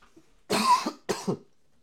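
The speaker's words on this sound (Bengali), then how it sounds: "সরি, কাশিটা একটু হচ্ছে।" A person coughs twice in quick succession, close and fairly loud against near silence, each cough a short harsh burst.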